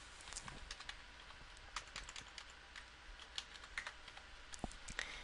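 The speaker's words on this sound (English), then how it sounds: "I'm going to type in the third word," Fingers tapping out a word on a computer keyboard at an office desk, a quiet, uneven run of light clicks and key presses with no talking.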